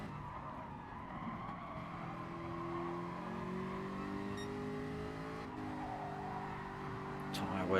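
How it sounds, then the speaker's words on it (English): Race car tyres squeal under load at Suzuka Circuit in a Gr3 racing video game, a sustained engine drone with wavering tonal screeches layered over it, continuous and fairly loud throughout. "You hear the tyres squealing under the pressure."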